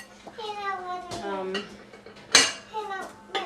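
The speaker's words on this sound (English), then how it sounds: "Let me fix these bowls as I pick them up" Bowls and dishes clatter as they are picked up and handled in a home kitchen while blueberry compote is made, with sharp close knocks and one loud clank, under talking voices.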